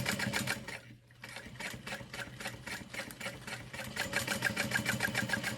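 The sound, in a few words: sewing machine top stitching a bowler bag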